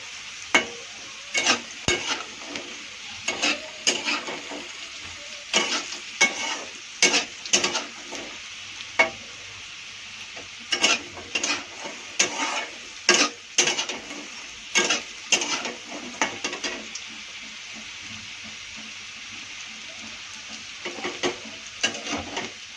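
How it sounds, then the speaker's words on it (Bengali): Potatoes fry in oil while being stirred in a pan, a constant sizzle under frequent loud clanks and scrapes of a spatula, some in quick bursts. "আলুটা পুরো লাল লাল করে ভেজে নেব"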